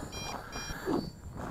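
A few high-pitched electronic beeps repeat in quick bursts over a steady background hum: an MJX Bugs 2 SE drone's low-battery warning at 50% charge.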